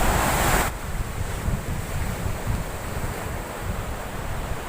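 Arabian Sea surf breaks along a Goa beach, a steady rushing wash of waves mixed with heavy wind noise on the microphone, continuous and fairly loud.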